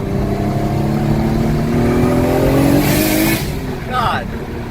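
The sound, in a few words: turbocharged car engine spooling, running on E85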